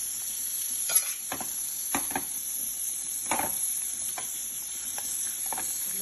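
Okra fries in a pan with onion and peanuts, a steady soft sizzle with scattered stirring clicks and scrapes, close and even throughout.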